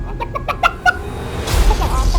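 Chicken clucks from an animated opening film: a quick run of short, bright clucks in a cluster, followed by a louder broadband whoosh and rumble.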